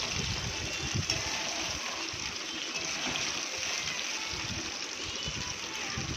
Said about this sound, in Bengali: সব মাছগুলো দিয়ে দিলাম একবারে তেলের মধ্যে